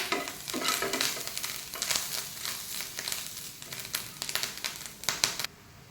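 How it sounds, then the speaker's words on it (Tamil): Ingredients for an Onam kootu curry fried and stirred in a pan, with a continuous light sizzle broken by rhythmic scraping strokes of the spoon, close and fairly quiet, no voices. "கைவிடாமல் இந்த மாதிரி நல்லா சிறப்பாக வறுக்கணும்"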